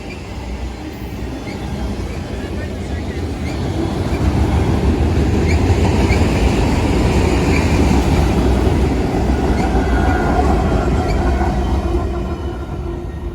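A train rumbles past on railroad tracks along a trail, a steady low roar that builds after a few seconds, holds loud with rattling wheels and faint squeals, then eases slightly near the end; no talking.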